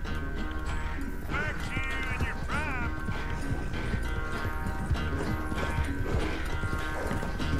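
Horse hooves clop and a whinny rises in Red Dead Redemption 2, mixed into a dense, continuous game soundtrack with steady background noise throughout.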